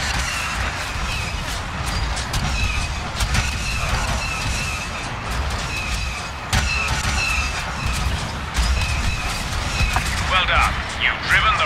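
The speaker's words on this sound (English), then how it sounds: "Use your blaster cannons to obliterate those Rebels." AT-AT walker blaster cannons firing on rebels in Star Wars Battlefront, a steady barrage of repeated energy blasts and booms over constant rumbling battle noise, with voices talking throughout.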